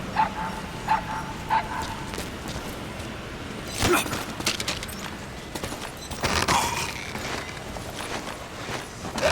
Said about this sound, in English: thanks for saving that cute little puppy